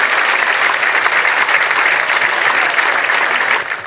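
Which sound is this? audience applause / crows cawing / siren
audience applause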